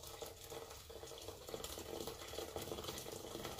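Hot water pours steadily into a container while making aloe vera hair oil at home, giving a continuous, faint, hissing splash with no break and no voices.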